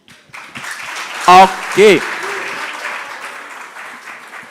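Applause from a quiz competition audience, a steady patter of clapping filling the room, with a voice briefly speaking over it in two short bursts.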